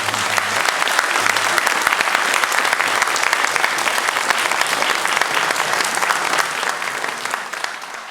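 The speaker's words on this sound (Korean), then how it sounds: "여러분 큰 박수로 여러분 환영해 주시기 바랍니다" Dense, continuous applause fills a church hall as a Sunday morning congregation welcomes new church officers, loud and unbroken for several seconds before easing slightly at the end.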